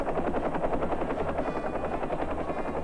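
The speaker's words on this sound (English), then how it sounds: "In many places, helicopters become the only way to move food and fuel" A helicopter flies during a severe 1979 winter storm, its rotor chop a loud, steady, rapid thudding pulse that fills the whole stretch with no voices.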